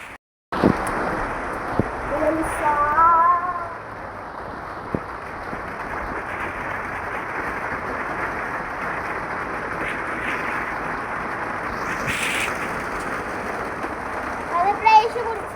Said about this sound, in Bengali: অনেক বৃষ্টি পড়তেছে, আপনারা দেখতেই পাচ্ছেন।